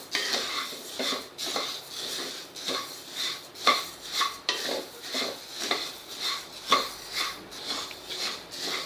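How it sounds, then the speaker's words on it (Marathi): Coriander and cumin seeds are stirred steadily in a pan over a low flame, with a spoon scraping and clinking against the metal in a repeated rhythm, close and fairly loud, under a faint dry crackle. "सतत हलवायचे म्हणजे सगळीकडे छान भाजले जातात जिरे"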